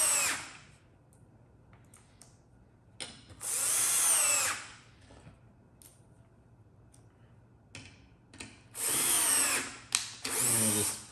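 A power drill drives screws into a pinball playfield in several short whirring bursts, close and loud, separated by quiet pauses and small handling clicks.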